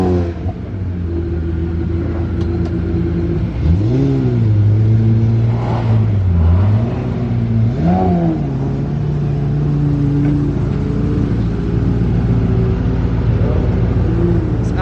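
A Pagani Zonda hypercar drives past with a loud, continuous engine drone, rising in pitch on two distinct acceleration pulls before settling into a steady rumble.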